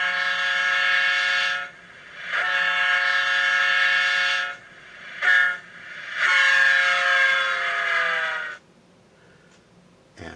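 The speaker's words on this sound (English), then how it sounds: "It also has a Doppler horn effect for grade crossings." A Rapido GP-9M model diesel locomotive sounds its horn at a grade crossing: several loud, sustained chords in a long-long-short-long pattern, the last blast sliding down in pitch as the Doppler effect kicks in, then cutting off.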